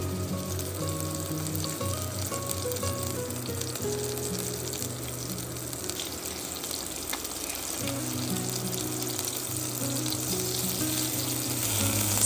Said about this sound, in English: Sear the beef until brown